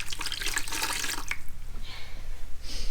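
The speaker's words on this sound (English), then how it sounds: "you can see the dirty water that's coming out of the rag." Rag rubbing on a horse in a barn, with a wet, rushing, splashy texture as dirty water drips and runs out; steady and close, with no voices.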